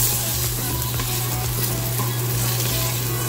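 Onions and garlic sauté in a pan for a curry with a loud, continuous sizzle and stirring noise, close up, over a low steady hum.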